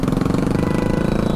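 A Honda Dio scooter exhaust runs close and loud with a steady, fast pulsing putter, the engine note holding even throughout with no voices.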